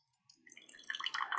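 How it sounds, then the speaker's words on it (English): Water and built-up pressure are forced out of a home coffee maker, rising from near silence into a close, bubbling hiss with sputtering gurgles that grows louder toward the end. "And you can hear the pressure release whenever you go down with it."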